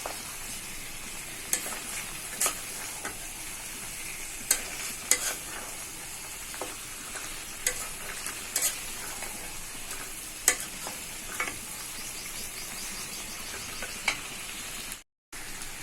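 Beef kala bhuna frying in a pan, a low steady sizzle with occasional clicks and scrapes of stirring, fairly quiet and close, with no voices.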